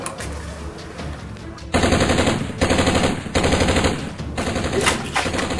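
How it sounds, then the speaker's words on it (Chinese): Bursts of rapid gunfire crack out in a live-action PUBG game, several loud automatic volleys separated by brief pauses, with quieter ambient noise before the first burst. "前面还有一声枪声，走上去看看。"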